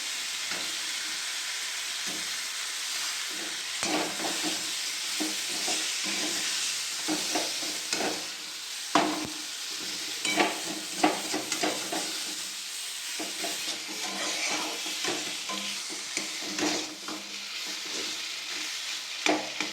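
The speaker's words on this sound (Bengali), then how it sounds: "ভালো মতো কষানো হয়ে গেছে, আলু আর মশলাটা একদম চটপটা হয়ে গেছে, ভাজা হয়ে গেছে।" Potatoes and spice masala fry in a pan with a steady bright sizzle, stirred throughout with repeated scraping clicks and clatters of the spoon, close and continuous with no voices.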